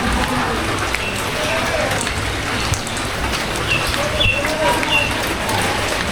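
Steady rain falling outdoors in a village, a dense even hiss close by with occasional birds, and a voice talking over it.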